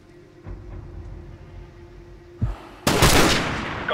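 Gunfire in Call of Duty Modern Warfare Remastered: a faint pop early on, then a sharper shot and a sudden loud burst of rapid fire that runs to the end, close and dense.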